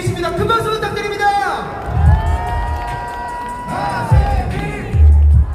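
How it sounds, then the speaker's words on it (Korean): A rally crowd outside Busan Station cheers loudly, with shouts, whoops and sustained voices swelling and dipping over several seconds, close and energetic, and little clear clapping. "큰 박수 부탁드립니다"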